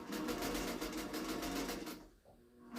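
Sewing machine running steadily while stitching raw edge appliqué, a loud continuous mechanical whir for about two seconds before it stops and falls quiet.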